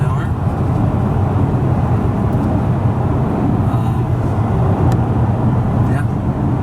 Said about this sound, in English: this is through a window in a moving car